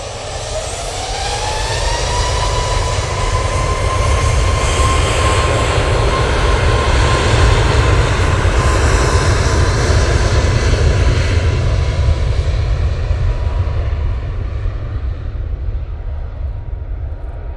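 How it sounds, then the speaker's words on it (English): Scandinavian Airbus A320neo landing after arriving from Copenhagen, its jet roar swelling loud and close with a rising then steady engine whine, holding strong before slowly easing off, with no one talking. "Scandinavian is next in, coming in from Copenhagen using their A320 Neo"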